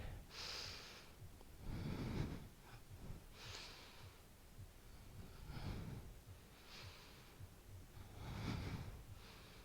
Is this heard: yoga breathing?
yes